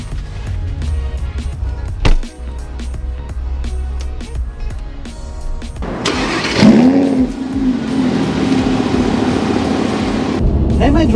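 A Lamborghini Huracan LP580-2 supercar starts up and revs loudly while driving in California, its engine note rising and swelling after a stretch of softer background sound, with a voice heard along the way.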